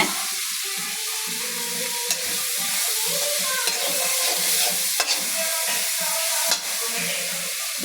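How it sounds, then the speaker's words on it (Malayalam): Onions sauté with salt in a pan for chicken curry, a steady close sizzle and fry with occasional scraping stirs and small clinks, no talking. "ഇത് നമുക്കൊരു സകല ഉപ്പ് ഇതിനകത്തോട്ട് ഇടാം ഉള്ളിയൊക്കെ നല്ലതായിട്ട് വഴന്ന് വരാൻ"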